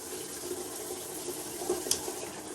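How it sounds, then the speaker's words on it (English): Water pours steadily from the top showerhead of a newly installed Kohler 3-in-1 shower, a continuous hissing spray with a few small splashes, close and even. "this one is showered from the top"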